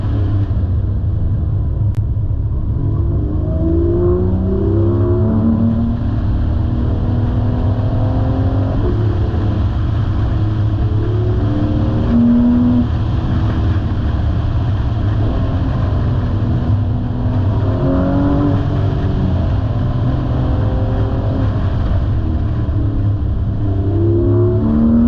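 A car driving along Wayah Road in the Smoky Mountains, heard from inside as a steady engine rumble with rising and falling revs through gear changes and curves, continuous and loud with no talking.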